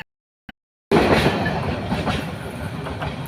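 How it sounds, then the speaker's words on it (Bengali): After a brief near-silence, a train suddenly rushes past close by, its loud, continuous rumble and wheel clatter filling the rest of the moment. "গেল, চলে গেল ট্রেন।"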